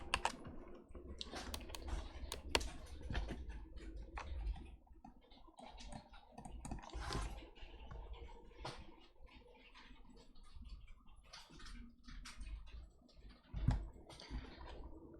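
Close, quiet typing on a computer keyboard while writing web code, irregular clicks and short runs of keystrokes with brief pauses and a few louder taps.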